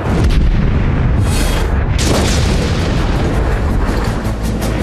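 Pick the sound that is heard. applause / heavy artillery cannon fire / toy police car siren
heavy artillery cannon fire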